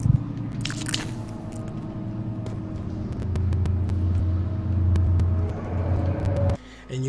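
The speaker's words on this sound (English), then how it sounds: "Is that crackling noise like him chewing his nails" A continuous crackling, crunching noise in a video game, like someone chewing nails, over a steady low rumble that swells midway and then drops off abruptly near the end.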